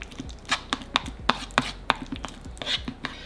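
Mashed ingredients are mixed with mayonnaise in a bowl for a cheesy jalapeño burger, giving a quick series of sharp, close utensil taps and knocks against the container, roughly evenly spaced.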